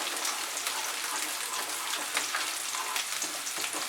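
Chopped garlic and onion fry steadily in a hot pan over high heat, a dense, even crackling sizzle that holds at the same loudness with no break and no voices.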